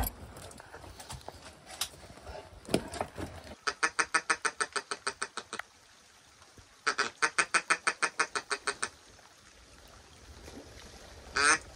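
Two long runs of rapid, evenly spaced quacks from a nearby duck, each a rhythmic series of a dozen or more calls, with quieter outdoor noise between, on a New Zealand duck-shooting opening morning.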